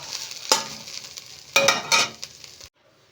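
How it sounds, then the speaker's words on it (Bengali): Grated cauliflower hits hot oil with ginger and green chilli, bursting into loud sizzling hisses in a few surges as it is stirred, then dropping abruptly to quiet. "এবারে এর মধ্যে গ্রেট করা ফুলকপি দিয়ে দেব দিয়ে এটাকে ভাজব"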